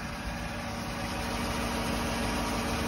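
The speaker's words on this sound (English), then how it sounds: "I'm gonna get outside so you can hear the engine" A 2015 Chevrolet Silverado pickup truck engine idles without a muffler, a steady, low rumbling drone that stays even throughout, close by and alone.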